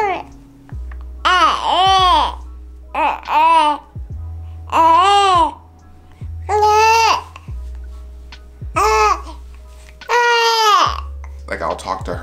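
An infant girl babbles and coos in a string of loud, drawn-out vocal bursts with brief pauses between them, close up, with a low steady hum underneath.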